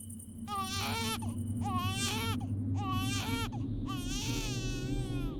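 A cartoon baby cries in four drawn-out wailing bursts separated by brief pauses, loud and close over a constant low rumbling hum.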